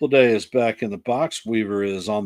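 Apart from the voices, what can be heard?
No distinct noise like a dog, phone or traffic.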